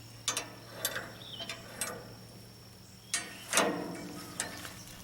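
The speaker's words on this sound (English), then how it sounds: "this is the lever that pulls the starting motor" A forklift's starting-motor lever is worked by hand, giving a string of sharp metallic clicks and ratcheting clacks spaced irregularly, close and fairly quiet against a faint steady hum.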